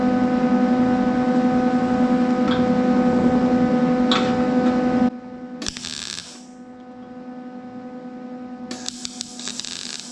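MIG welding on a rusty Model A coupe hot rod door repair panel: a steady, loud buzzing hum with harmonic tones for about five seconds, then stops, followed by brief crackling bursts of welding or grinding noise.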